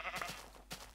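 Sheep in the video game Minecraft bleat twice, a short wavering baa followed by a briefer one, fairly quiet and with no talk.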